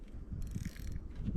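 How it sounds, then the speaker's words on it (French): A fishing reel's drag is tightened during ice fishing for pike at a marina, giving a quick run of close, dry ratcheting clicks over a low background rumble, with no talking. "je vais serrer le moulinet un petit peu"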